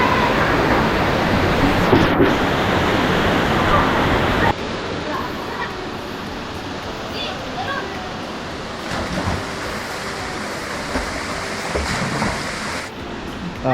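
Waterfall at Ayong's adventure park in Silang, heard as a loud, broad rushing roar at first, then a softer, steady wash of falling water with people talking over it.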